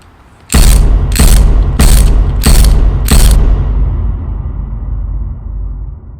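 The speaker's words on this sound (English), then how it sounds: "I'm going to just use a ratchet because I don't want to damage the threads" A ratchet backing out Allen bolts from a car gear shifter during a short shifter install: five loud, rapid clicking bursts in an even rhythm, very close, followed by a fading mechanical tail.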